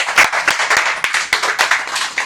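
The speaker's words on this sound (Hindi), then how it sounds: "मैं सबको निवेदन करूंगी कि ये इतनी छोटी बच्ची के लिए ताली पाड़िए" An audience at a diet camp claps for a little girl in quick, loud, close rhythmic bursts of hand claps that continue steadily without talk.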